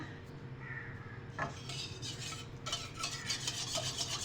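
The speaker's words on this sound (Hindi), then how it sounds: "मुसलसल आपने स्पून चलाते रहना है" A spoon stirred constantly through egg and milk custard in a pot over a low flame, making soft repeated scraping and clinking against the metal above a low hum, quiet and close, with no talking.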